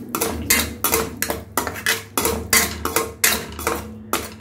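A spoon scrapes and clanks against a cooking pot in quick repeated strokes while ghee-fried cashews are stirred into a thick biryani tomato jam, sharp metallic knocks close by and alone.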